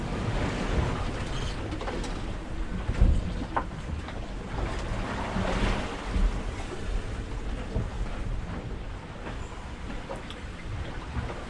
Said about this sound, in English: We just got pooped, cockpit filled up with water